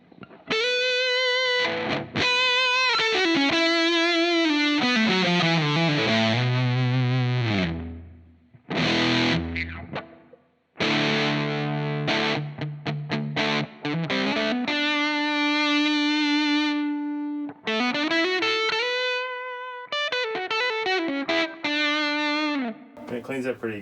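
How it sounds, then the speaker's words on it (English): Electric guitar through a Line 6 Helix and tube amp with heavy fuzz distortion plays loud riffs and sustained notes, with a brief pause partway through. "this would be fuzz distortion"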